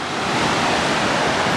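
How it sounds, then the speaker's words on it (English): Bridal Veil Falls pours out a loud, constant rushing roar of water, a dense, even wash of noise that holds steady throughout with no voices over it. "Right here, you kind of see this waterfall right here"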